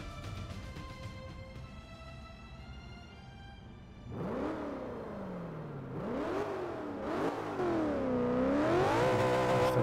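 A BMW M5 revving in a Forza 5 race, the engine note climbing and falling through repeated sweeping rises as it accelerates, loud and up close with no talking, after a steady idle drone at the start.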